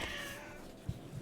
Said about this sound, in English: my cat is meowing as always.